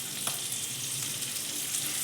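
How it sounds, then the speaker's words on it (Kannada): Sliced onions, slit green chillies and curry leaves fry in hot oil in a pan for a spicy dry chicken dish, giving a steady, close, even sizzle with no talking. "ಇದು ಈರುಳ್ಳಿ ಚೆನ್ನಾಗಿ ಫ್ರೈ ಆಗಬೇಕು, ರೋಸ್ಟಾಗಿ ಕೆಂಪಗೆ ಫ್ರೈ ಆಗಬೇಕಿದು ಈರುಳ್ಳಿ."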